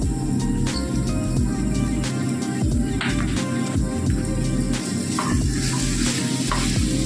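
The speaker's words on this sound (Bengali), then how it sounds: "এবার কেটে রাখা ড্রাই ফ্রুটগুলো দিয়ে দিব আমি কিশমিশ দিয়েছি বাদাম দিয়েছি আর কাজু দিয়েছি" Raisins, nuts and cashews stirred into frying carrot halwa, a constant dense sizzle with spatula scrapes against the pan, close and loud with no voices.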